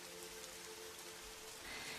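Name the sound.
gentle light rain falling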